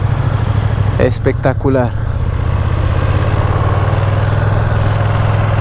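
A Ducati Streetfighter V2 motorcycle engine runs at a steady idle throughout, a loud low rumble with a short burst of speech over it near the start.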